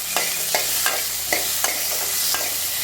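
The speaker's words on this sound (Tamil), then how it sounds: "அதுக்காக தான் நெய்யில் வதக்குறேன்" Tomato and two green chillies sautéing in ghee in a pan, stirred in a steady rhythm of sharp scraping strokes over a continuous close sizzle, with no voices.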